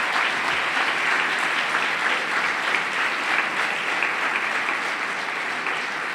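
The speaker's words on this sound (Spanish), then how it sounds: "Dale un aplauso al Señor." A church congregation applauds the Lord during a sermon, with dense, sustained clapping from a large crowd at steady volume from start to finish.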